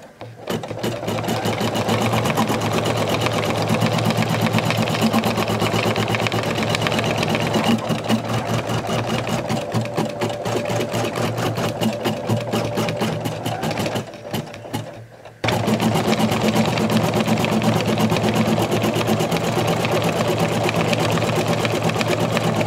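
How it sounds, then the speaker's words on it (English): An embroidery machine stitches an appliqué line holding Glitterflex material in place, a loud, rapid, steady mechanical chatter close up that pauses briefly near the end, then resumes. "We are now going to embroider the next applique line, which will hold the Glitterflex in place."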